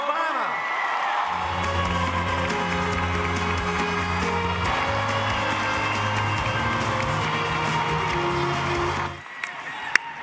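A crowd of 18,000 at a Barack Obama rally roars with sustained cheering and applause, loud and continuous for about nine seconds over sustained musical tones, then drops away abruptly.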